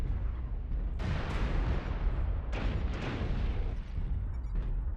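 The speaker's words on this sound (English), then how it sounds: "Warning, incoming missile." Incoming missile impacts in the MechWarrior Online game, heard as a continuous heavy rumbling roar with several sharp blasts landing in quick succession, loud and dense throughout.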